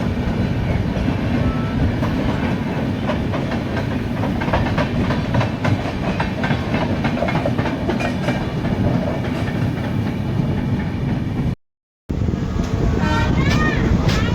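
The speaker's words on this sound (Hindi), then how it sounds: "सामने से आ रही है गोरखपुर आनंद विहार हमसफ़र एक्सप्रेस, आनंद विहार टर्मिनल की ओर जाती हुई" The Gorakhpur–Anand Vihar Humsafar Express passes close by, its wheels giving a continuous loud rumble and clickety-clack across the whole stretch, with a short cut-out near the end.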